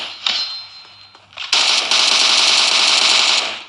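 Automatic gunfire from the mobile shooter game PUBG Mobile: a few short bursts early on, then a loud, continuous stream of rapid shots filling the last two seconds, with no talk over it.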